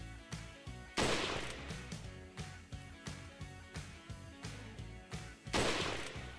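Gunfire in Resident Evil 4 rings out as a steady rhythmic string of close shots, with two heavier, louder blasts at the start and near the end, over a low droning game backdrop.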